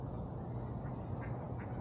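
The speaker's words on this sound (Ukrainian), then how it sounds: "Качечки." Ducks quacking at a park pond in Mill Creek Park, Bakersfield, California, a few brief calls heard at a distance over steady low outdoor rumble.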